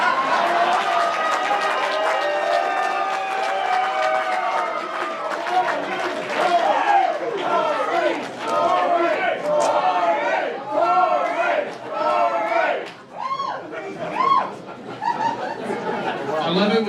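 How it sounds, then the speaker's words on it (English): A convention crowd at a gubernatorial debate makes dense, lively noise: overlapping chatter, whoops, laughter and scattered applause that rise and fall, with voices prominent throughout. "I love it when y'all cheer instead of boo."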